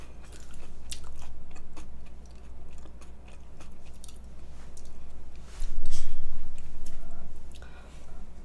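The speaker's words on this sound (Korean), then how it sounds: "제가 오늘 좀 너무 좀 쩝쩝거린 것 같은데 죄송합니다" Loud, close lip-smacking chewing while eating half-chive, half-kimchi Korean pancakes, with wet crunchy bites and smacks that rise and fall in uneven bursts.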